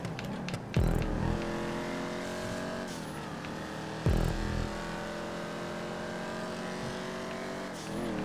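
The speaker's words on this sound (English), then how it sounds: "The gauntlet is it sounds slow, it revs very low." The Gauntlet muscle car in a racing video game, its engine droning low and steady. Two gear shifts bring brief rises, and there is a short whoosh near the end.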